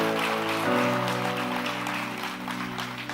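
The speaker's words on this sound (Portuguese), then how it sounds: "Dê o meu aplauso" A church congregation applauding, a dense patter of clapping under a sustained keyboard chord, steady and fairly close before easing slightly.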